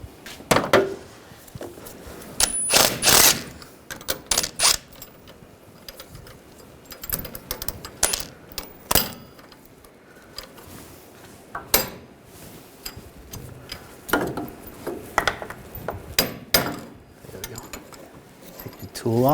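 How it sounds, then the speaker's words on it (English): Locking pliers and a tie rod tool working loose the inner tie rod on a 2007-2013 Chevrolet Silverado 1500, giving irregular metallic clanks, ratcheting clicks and scraping bursts, close up, with occasional bits of speech between them. "Now just holding the locking pliers, and we can loosen it up."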